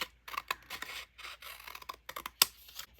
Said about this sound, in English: you can use a cutter or scissors